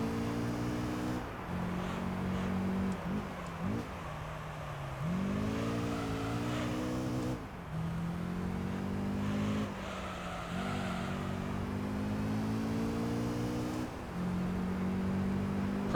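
A Honda NSX race car engine from Gran Turismo 3 holds a sustained high whine, climbing and dropping through gear shifts, with a brief tire squeal during an amateur championship race. No one speaks.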